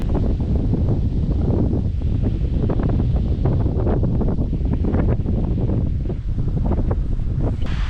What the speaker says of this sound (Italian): Però guardate che vento